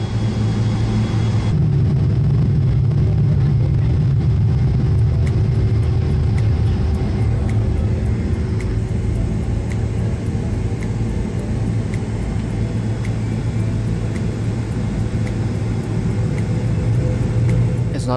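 Airliner takeoff roll heard from inside the cabin on a United Airlines flight, a loud steady low engine roar and rumble that swells early and holds for the whole stretch, with no talk.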